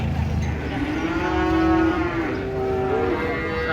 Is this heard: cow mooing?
yes